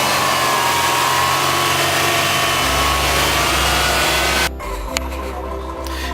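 A 2001 Subaru Legacy B4 RSK engine runs after a valve cover gasket replacement, a loud, steady, close idle that drops to a quieter, lower hum near the end.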